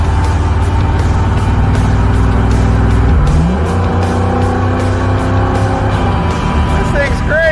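A 1966 Ford Econoline van cruising on the highway, heard from inside as a loud, steady engine drone and road roar with a shift in engine pitch midway; voices talk over it.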